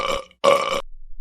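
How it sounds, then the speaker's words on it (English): A cartoon tiger cub lets out a loud, drawn-out burp in a classroom, preceded by a shorter belch-like sound, with no talk over it. "did you just burp?"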